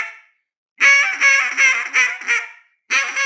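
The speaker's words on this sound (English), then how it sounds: "this Cajun squeal's got a lot of pressure on it when you're making that reed whine" A Cajun squeal blown hard on a duck call makes a reedy, whiny quacking sequence: a faint lead-in, then a rapid run of five strained, pulsing notes, a pause, and another loud note starting.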